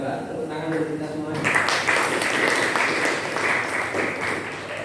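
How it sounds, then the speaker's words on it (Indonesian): A class claps in applause after a lesson, a dense burst of clapping that begins about a second and a half in and carries on steadily, following brief talk. "Tepuk tangan untuk kita semua."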